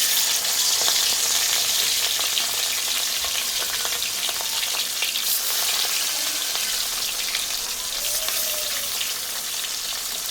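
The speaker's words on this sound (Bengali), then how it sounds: "তেলটা আমার সুন্দর গরম হয়েছে দেখো। এবার আমি মাছগুলো দিয়ে দেব।" Katla fish pieces fry in hot mustard oil with a steady, dense sizzle and crackle that stays loud and close for the whole stretch, with no one talking.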